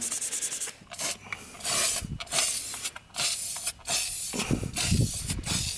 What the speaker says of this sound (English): This paint I'm using is this Universal Advanced Formula by Rust-Oleum, and it's supposed to be a primer and a paint at the same time.